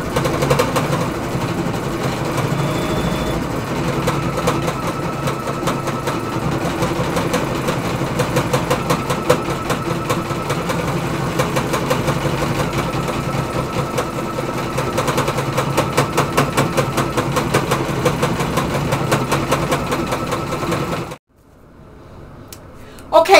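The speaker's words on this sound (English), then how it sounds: "I'm going to sew it out and see what I end up with." A computerized embroidery machine stitches out a butterfly design on wash-away stabilizer, giving a steady, fast mechanical chatter that runs continuously and close before stopping abruptly near the end.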